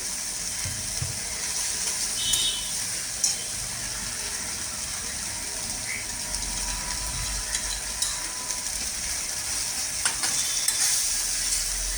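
Spice paste for palak paneer fries in a pan and is stirred close up, giving a constant sizzle with scattered scraping and clicking stirs.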